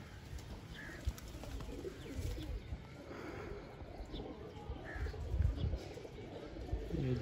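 Pigeons on a rooftop coo softly in low, rolling calls, fairly faint against a dull background hum, with a voice occasionally talking nearby.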